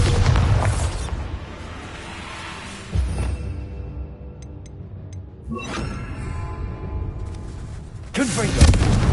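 Bombarda spell blasts in the game Hogwarts Legacy produce heavy booming explosions with long rumbling tails, recurring several times amid battle effects and a shouting voice.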